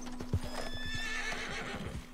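Horse hooves in Red Dead Redemption 2, a brief run of soft rhythmic hoofbeats at moderate distance with a steady tonal hum and faint whistling tones over the top.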